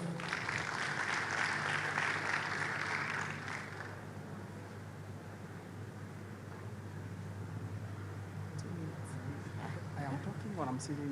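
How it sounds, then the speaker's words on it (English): An audience at a universal health coverage expo in Kericho County applauds to welcome a speaker, a brief burst of clapping that fades after a few seconds, leaving a low hum and faint room noise. "with a round of applause"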